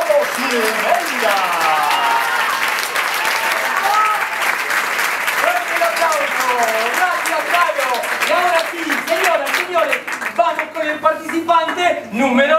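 Sustained applause from a theater audience at a concert in a hall, loud and continuous clapping with voices and cheers mixed in, thinning slightly toward the end.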